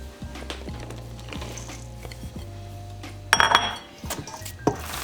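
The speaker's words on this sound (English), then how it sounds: "Now we're gonna fold in our cheddar cheese." A utensil scrapes and clinks against a bowl while cheddar cheese is folded into a breakfast-sandwich mixture. A low, steady background sits under a few sharp, close metallic clinks near the end.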